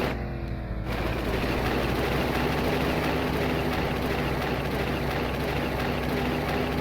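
A deep, steady American V8 engine rumble in a video game idles continuously and loudly, with a constant low drone and no voices.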